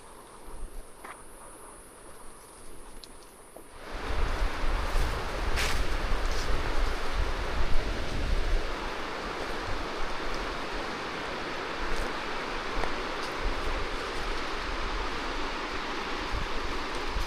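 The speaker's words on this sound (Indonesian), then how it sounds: "Suara aliran air sungai itu terdengar sangat jelas dari sini." Steady broadband rush of a river flowing below a steep ravine near houses in Banjarnegara, constant and moderately loud after a quieter opening, with faint insect chirps in the background.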